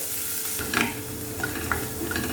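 Finely chopped onion frying for soya poha, with a steady close sizzle throughout and several light stirring scrapes of the spoon against the pan.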